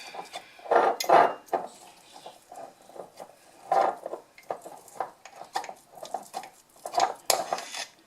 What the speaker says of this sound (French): Donc, je vais prendre de l'huile de coco. Je vais déjà la couper un peu.